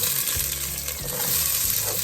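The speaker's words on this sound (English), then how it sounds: "Hear that sizzle?" Steady sizzling of onions and garlic frying in hot olive oil, a continuous close crackle with faint stirring underneath.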